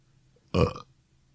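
A man on a podcast-style show lets out a single short, close burp, a brief voiced belch against quiet room noise.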